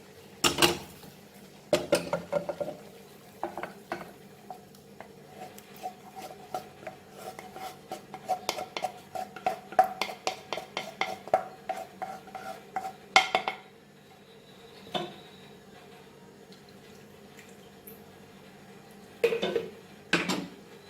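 A metal spoon stirs fried masala paste into a quail curry in a pot. It scrapes and clinks in irregular bursts, closer together in the middle and sparser near the end. No one speaks.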